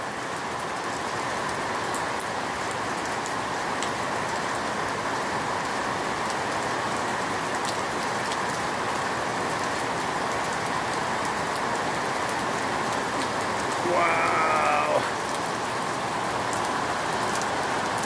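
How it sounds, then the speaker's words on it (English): Heavy rain pours down in Boquete during a stormy spell, a dense, unbroken roar that fills the whole stretch and swells slightly louder for a moment near the end, with no voices. "All this rain's gonna make one more big one."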